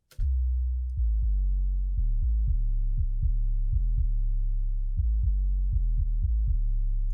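A deep, booming bass pulse with everything above the lows stripped away, thumping in a steady beat under a continuous low hum.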